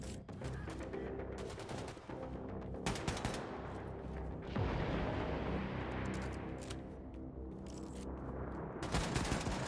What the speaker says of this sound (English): my first shots on the next guys missed